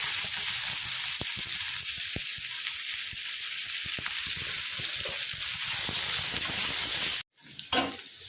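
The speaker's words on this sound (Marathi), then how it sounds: "तर तुम्ही बघू शकता कांदा चांगला फ्राय झालेला आहे" Onions frying in oil in a pan for a dhaba-style egg masala give off a loud, continuous close sizzle with occasional pops. It cuts out briefly near the end, then returns more faintly, with no talking over it.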